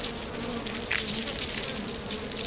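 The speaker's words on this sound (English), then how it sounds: "these are native Japanese honeybees" Native Japanese honeybees swarm around their hive in a hollow tree, a dense continuous buzzing drone filling the air at close range with no voices.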